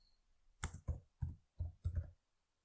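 A computer keyboard is tapped in quick succession, five or so soft, distinct keystrokes close by in an otherwise quiet room, while a command is typed into a prompt.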